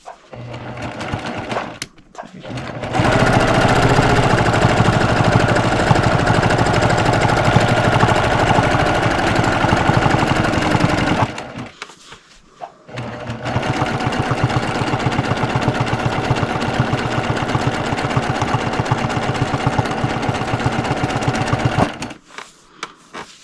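A regular domestic sewing machine stitching free motion quilting runs in two long, loud, steady motor bursts with a fast buzzing needle rhythm, separated by brief pauses where it stops, with no talking.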